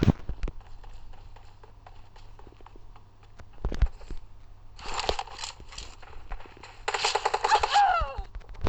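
Gunfire in the mobile game Free Fire, scattered single shots early on, then two rattling automatic bursts in the back half, the last one longer, under low background hum.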